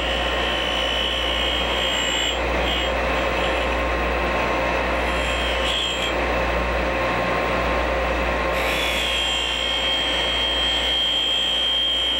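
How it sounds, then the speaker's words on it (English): A grinding wheel whines steadily against a metal drill bit as it sharpens it, a continuous high-pitched motor drone that holds for the whole stretch with slight shifts in pitch. "you would simply feed the grinding wheel in"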